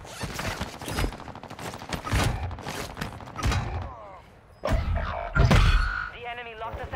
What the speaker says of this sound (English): The dude in the building over there shooting a pistol.